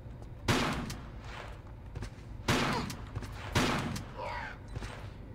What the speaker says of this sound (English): Let me get the shotgun back out.